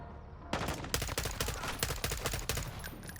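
Rapid automatic gunfire in Call of Duty Modern Warfare 2 (2022), a dense string of sharp shots starting abruptly and continuing steadily for about three seconds, loud and close.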